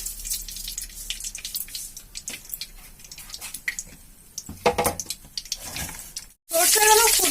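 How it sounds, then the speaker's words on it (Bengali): Yellow mustard seeds dropped into hot oil, with light crackling and popping under a woman's speech, then a sudden loud burst of spluttering sizzle near the end. "এবার আমি সর্ষে ফোড়ন দেবো। এর মধ্যে হলুদ সর্ষেটা দেবো ফোড়ন।"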